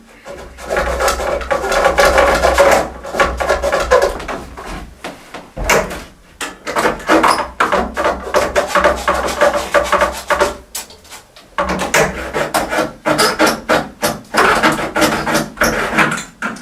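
Rhythmic sawing of a tube for a homemade trombone, repeated rasping strokes in steady bursts with brief pauses, loud and close.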